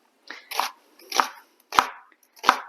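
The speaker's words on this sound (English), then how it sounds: "So once I have my halves of my onion, you can cut it this way, but you don't really need to." A knife chopping through onion halves on a cutting board, four crisp, evenly spaced cuts heard up close with no talk.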